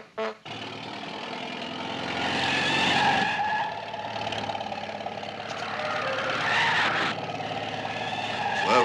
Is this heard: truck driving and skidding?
yes